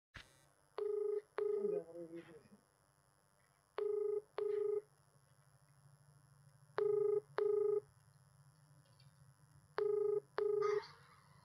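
Phone keypad tones from dialing a call, beeping in short paired bursts at a steady, deliberate pace over a low background hum, with faint voices and rustling in between presses.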